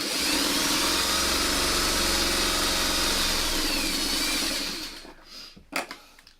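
Machine stitching of quilt pieces, a steady close motor whir running for about four seconds, then slowing to a stop followed by a few soft clicks and handling knocks.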